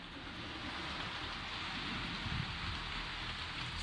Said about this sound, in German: Es klingt auch nach sehr, sehr starkem Regen.